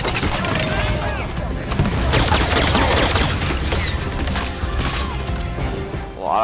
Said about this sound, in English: Who else is shooting at me?